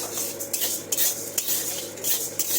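Dry urad dal (biulir dal) stirred lightly in a dry kadai, giving a steady gritty scraping with small clinks of utensil on metal, close and continuous, with no voices.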